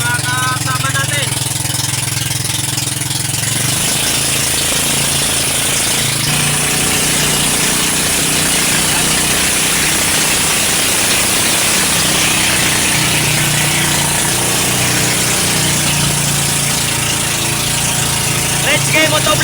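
A boat engine drones loudly and continuously, a steady mid-pitched rumble with rattling vibration and no pauses throughout.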